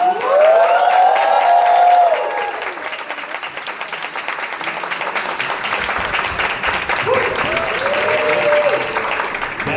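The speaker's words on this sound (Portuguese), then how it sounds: "recebam com muitos aplausos Miss Glória!" A studio audience at a drag talk show applauds and cheers to welcome a guest, loud dense clapping with whoops, while a voice calls out over the crowd and the applause goes on steadily.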